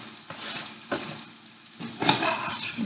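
Onions and yellow squash with zucchini cook in butter in a pan, a soft sizzle running under repeated scraping strokes of a spoon, a few louder stirs near the end.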